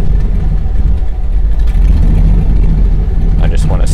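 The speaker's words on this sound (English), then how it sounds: "it won't stay running without me stabbing the gas pedal" A car engine idles roughly after a camshaft swap, struggling to stay running: a loud, steady low rumble with slight unevenness and a brief higher whine near the end.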